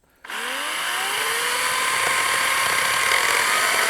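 Wild Badger CSB40U battery chainsaw starting up with a sharp rising whine, then holding a loud, steady high-pitched motor scream as it cuts, with a slight lift when it shifts into second gear.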